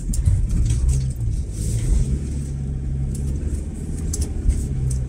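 Car engine rumbling steadily while driving up a hill on a snowy road toward a parking lot, low droning motor noise close by with faint intermittent higher rattles, no speech.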